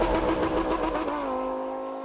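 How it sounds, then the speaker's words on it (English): A Lamborghini Huracán V10 revs hard, its loud rasping engine note swelling and then settling into a steady tone as the revs hold, with no talk over it. "The Huracán not only sounds like a race car"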